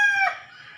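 A single rooster crow rings out close by on a farm, a short drawn-out call that trails off quickly.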